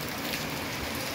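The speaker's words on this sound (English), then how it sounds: "It's warm, but it's raining." Warm rain falls outdoors in New York as a short, dense, steady patter and hiss.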